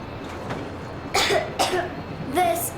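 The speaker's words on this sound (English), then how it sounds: "I have this cough." Three short, harsh coughs in a row from a character in the video game Metro Exodus, fairly close, with a bit of breathy low noise between them.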